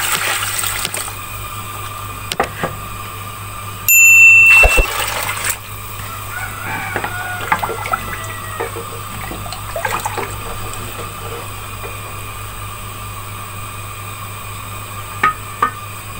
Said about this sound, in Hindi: अब इसमें मैं 5 गिलास पानी शामिल कर लूंगी।